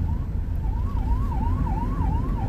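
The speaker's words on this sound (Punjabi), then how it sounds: "ਐਂਬੂਲੈਂਸ ਨੂੰ ਵੀ ਰਸਤਾ ਦੇਣਾ ਚਾਹੀਦਾ" An ambulance siren wails with a steady rising-and-falling tone on a mountain road between Jammu and Kashmir, heard clearly over the constant rumble of road traffic.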